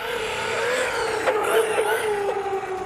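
Team Corally Jambo XP 6s electric RC buggy run at full throttle at night, its motor whining loud and high and rising in pitch, with tire and drivetrain roar, close and continuous.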